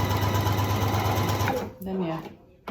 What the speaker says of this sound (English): you stick them under the sewing machine needle, you tell it to go,